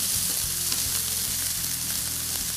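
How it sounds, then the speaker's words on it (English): Swiss chard stems and red onion sautéing in a hot pan, a loud, steady sizzle and crackle of frying with faint stirring, no voices. "I want us to start sauteing those to soften them, along with my red onion."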